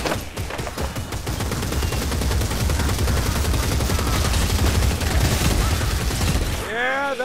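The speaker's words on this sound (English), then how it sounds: "Rattling. Rattling gunner." An enemy Ratling gunner in a first-person Warhammer video game sprays sustained rapid gunfire, a loud, dense, continuous rattle of shots lasting several seconds before cutting off to a brief whooshing effect.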